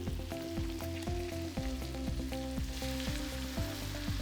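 Scampi butter from Island Seafood Market sizzles in a pan, a close, steady frying crackle with a rhythmic tapping running over it.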